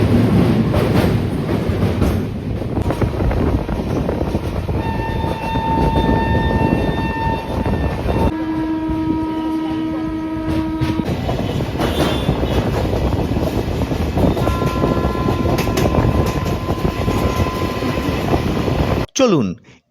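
Duronto Express train running from Kolkata to Puri, heard from inside as a loud continuous rumble and rattle with clattering wheels and brief tonal squeals, ending in a sudden drop to quiet.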